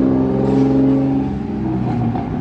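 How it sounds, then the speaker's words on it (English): A loud car engine with no muffler revs on a street in Tupelo, Mississippi, a raw throaty drone that holds strong and close, then eases slightly and wavers as it continues. "Somebody needs a muffler on their car."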